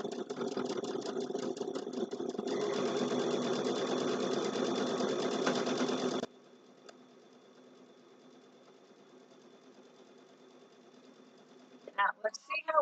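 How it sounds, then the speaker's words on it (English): A sewing machine stitches a fabric shopping bag, running steadily for about six seconds with a fast mechanical chatter, then stopping; a quiet room follows before brief talking at the end. "Okay, and I'm going to stitch back, or I can turn and stitch. Okay, and I'm going to stitch forward."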